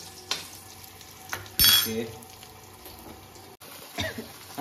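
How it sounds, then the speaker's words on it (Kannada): Curry leaves dropped into hot tempering oil for a jackfruit palya, giving a sudden bright sizzle and crackle that flares up then settles into a steady frying hiss, with some stirring and clatter around it. "ಕರಿಬೇವಿನ ಸೊಪ್ಪು ಹಾಕ್ತೀನಿ."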